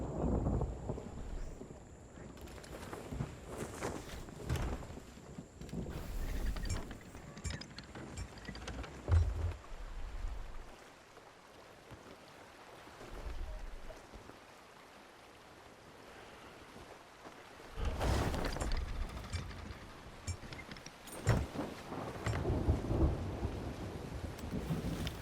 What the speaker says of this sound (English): And hopefully we'll get out of that storm for the final time today.